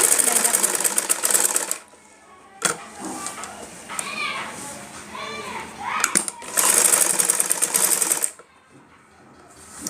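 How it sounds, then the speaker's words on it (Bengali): Sewing machine stitching the side seam of a kameez in two loud bursts at the start and end, with a quiet stretch between where someone talks. "তো আমি আপনাদের সেলাইটা করে দেখাচ্ছি।"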